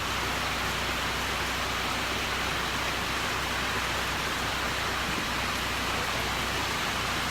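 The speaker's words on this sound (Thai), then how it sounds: "ฝนตก" Rain falls steadily during a road trip near Luang Prabang, Laos, a dense, even hiss with no breaks or voices across the whole stretch.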